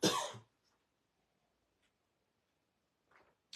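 A single sharp throat clearing or cough opens the moment, close and fairly loud, followed by near silence and a few faint small noises.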